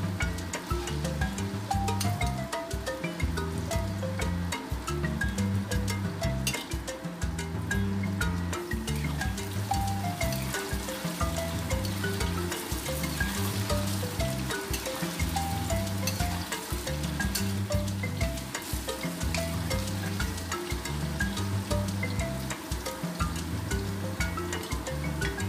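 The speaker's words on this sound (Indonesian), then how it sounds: "ini saya goreng dulu kentangnya, saya goreng setengah matang ya" Half-cooked potatoes fry in hot oil, giving a continuous crackling sizzle like rain that holds steady throughout, with a repeating low rhythmic pulse underneath and no talking.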